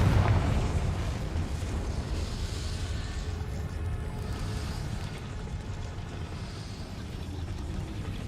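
A Confringo fire spell bursts in Hogwarts Legacy with a heavy, booming explosion at the start that rolls off into a long, rumbling, crackling decay.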